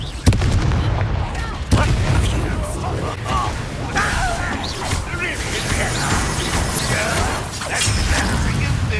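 Explosive blasts and rumbling booms from a Confringo fire spell being cast in Hogwarts Legacy, dense and loud throughout with sharp impacts, heard amid game combat with a voice speaking.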